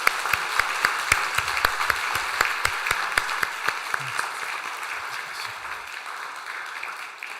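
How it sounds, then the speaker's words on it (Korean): A church congregation applauds to congratulate newly elected elders at a Sunday service, a dense, steady wash of clapping with a few sharp individual claps standing out, fading gradually toward the end. "우리 박수로 축하하도록 하겠습니다"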